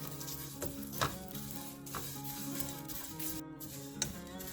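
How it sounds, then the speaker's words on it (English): Shallots and curry leaves sautéing in a pan for a Kerala prawn and drumstick theeyal, giving a steady close sizzle with occasional stirring scrapes and clinks. "Then I'm going to add the curry leaves and we're going to saute it"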